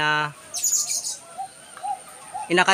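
A young pigeon is fed by a ring neck dove, with soft bird chirps and coos close by, a few short calls spread over quiet moments and a brief tonal burst at the start and end.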